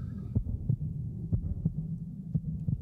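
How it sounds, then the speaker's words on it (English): A slow, thudding heartbeat effect in the video game The Witcher 2, pulsing in steady double beats over a low hum, fairly quiet, with no speech. "That heart beating sound is really uncomfortable."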